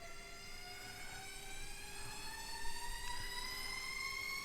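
A Hyundai electric car gives off a loud whining drive noise, a clean tonal whine that climbs steadily in pitch as the car accelerates, over a low road rumble.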